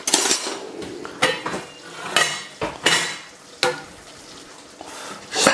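A metal spoon scoops rice onto a plate while a meatball feast is plated, giving repeated scrapes and bright clinks of the spoon against the dish, loud and close with no talking.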